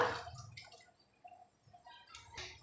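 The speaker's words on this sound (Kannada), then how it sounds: "ಈಗ ಹುಣಸೆಹಣ್ಣು ಹುಳಿ ಸೇರಿಸ್ಕೊಳ್ತಾ ಇದ್ದೀನಿ" Tamarind extract poured into simmering sambar for hotel-style idli sambar, giving faint wet drips, splashes and soft liquid gurgles in quiet, intermittent bursts with no talking.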